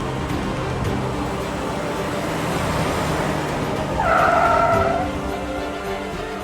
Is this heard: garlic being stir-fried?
no